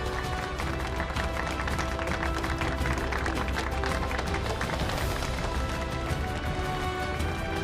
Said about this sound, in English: a round of applause for Jane Farwell